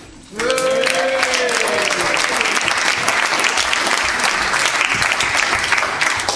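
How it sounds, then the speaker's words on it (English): A crowd bursts into loud, sustained applause and cheering after a brief quiet start, clapping steady throughout. "Let's hear it for Hillary"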